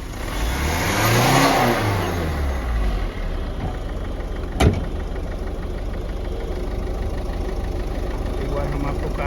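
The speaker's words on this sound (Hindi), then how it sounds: "आप सुन सकते हैं कार के इंजन का जो साउंड है" A rebuilt Ford EcoSport engine idles under the open bonnet and is revved once early on, rising and falling, then settles into a steady idle with a brief sharp click midway; a voice is faintly present.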